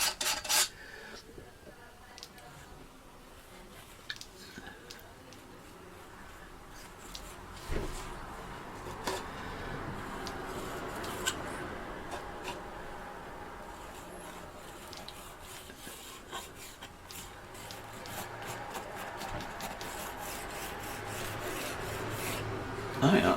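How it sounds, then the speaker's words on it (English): Palette knife scraping and rubbing thick oil paint across a canvas while working a landscape in oils, producing steady rasping strokes close by, with sharper scrapes scattered throughout and a quiet voice now and then. "using palette scrapings, bits of light colour that I've used before, scraping them up,"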